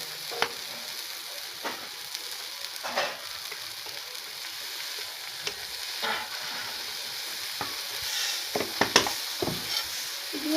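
Chilli sauce chutney frying in a pan, sizzling steadily while a utensil stirs it with scattered scraping and clinking strokes, close and fairly quiet with no talking.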